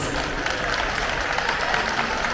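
Audience applause at a regional cultural night gala in Istanbul, a dense continuous wash of clapping filling the whole moment at moderate level.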